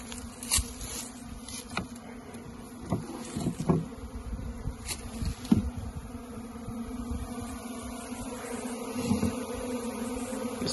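Honey bees buzz steadily at an open hive with a solid bottom board and mouse guard, a dense continuous hum with individual bees zipping close past now and then.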